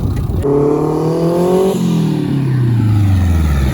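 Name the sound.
turbocharged Miata-engined kart revving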